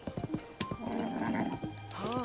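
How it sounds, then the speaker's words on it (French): A wild horse in a video game whinnies in a high wavering call over rhythmic hoof and footstep sounds, loud and close, with a soft voice murmuring near the end. "Vu que c'est un cheval sauvage,"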